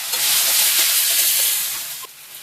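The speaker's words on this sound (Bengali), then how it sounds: "চিংড়ি মাছ ভেজে নেব।" Shrimp, rubbed with salt and turmeric, sizzle in about a tablespoon of hot oil in a pan, a loud steady hiss that fades slightly near the end.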